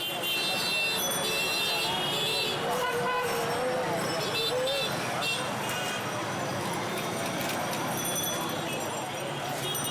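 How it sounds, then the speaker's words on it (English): Dense Dhaka street traffic, loud and continuous, with repeated car and bus horns honking over a steady engine roar and clatter, voices mixed into the din. "Even if traffic is at a complete standstill, horns are always honking."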